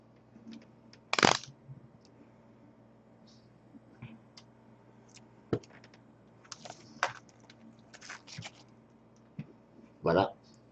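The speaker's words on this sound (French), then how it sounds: "On va ouvrir ici les petits paquets." Small plastic packets of board game pieces for a Masmorra expansion being torn open, a few sharp crinkling rustles and light clicks scattered among soft handling noises, close and fairly quiet.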